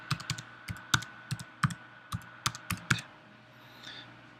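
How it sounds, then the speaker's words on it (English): Computer keyboard typing an IP address, a dozen or so crisp close key clicks in quick uneven bursts, with no voice over them. "I'm going to go ahead and type it in here."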